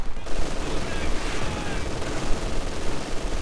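A machine gun bunker fires in the video game Company of Heroes 2, sustained rattling gunfire that sounds like a fusillade and plays continuously and loudly throughout.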